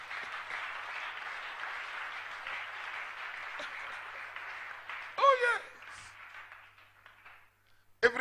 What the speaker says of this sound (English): If you want to clap your hand, you can clap your hand.